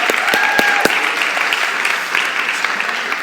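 A church congregation applauds in a dense, steady burst of clapping with a few sharper individual claps standing out, faint cheering or voices mixed beneath.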